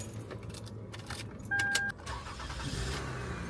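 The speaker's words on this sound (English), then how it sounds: "Car starts up beautifully." A car engine cranks and catches after a new starter is fitted, a short electronic chime and rattle over a low mechanical hum from a nearby vehicle, fairly faint and brief.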